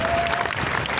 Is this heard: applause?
yes